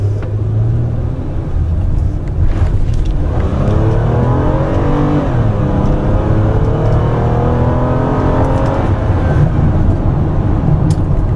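A 2014 Toyota Sienna all-wheel-drive minivan with a conventional six-speed automatic accelerating hard, its engine a loud, steady, close rumble with rising tone as it pulls through the gears, no voices.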